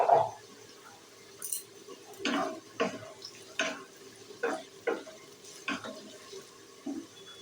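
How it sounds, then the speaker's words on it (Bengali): Capsicum stir-fried in a pan for fried rice, a quiet sizzle beneath repeated spatula scrapes and clinks that come in a steady rhythm about every half second, close up, with no talking. "এবার আমি কেটে রাখা ক্যাপসিকামগুলো দিয়ে দেবো"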